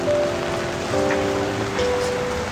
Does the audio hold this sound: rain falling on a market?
yes